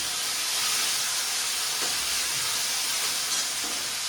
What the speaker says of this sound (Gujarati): ફુલેવર બટેકા તુવેરની સબ્જી, રાઈ વઘારનો તડકો મારીને નાખી દીધી સબ્જી